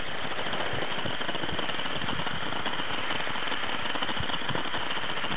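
An MSR WindPro II canister stove burner roars steadily and loud as it fires up and flares at high altitude, a constant rushing hiss throughout.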